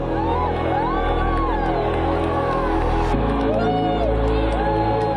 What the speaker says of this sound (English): everyone went wild, cheering and shouting when totality occurred in the sky